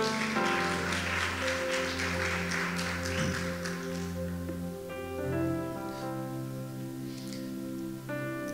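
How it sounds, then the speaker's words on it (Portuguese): A church congregation applauds over sustained music, a soft wash of clapping through the first half that fades while the music carries on. "Você pode aplaudir a Deus por esta palavra."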